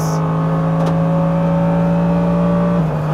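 A Mercedes-AMG GT3 race car on a track accelerating at full power, a loud sustained engine drone holding steady pitch with strong harmonics, dropping slightly at the end as it shifts.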